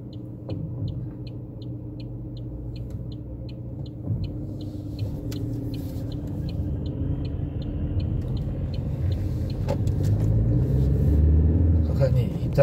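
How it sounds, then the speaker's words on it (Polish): Busy city street traffic with many cars passing, a steady low road rumble that swells toward the end, with faint periodic chirps above. "Ale tu ruch, jejku, ile tu samochodów, mówię."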